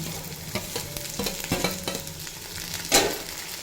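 Yardlong beans are stirred into potatoes already frying in a pan, producing a busy sizzle broken by several sharp clanks of a spatula against the pan and a louder scrape near the end, with no talking.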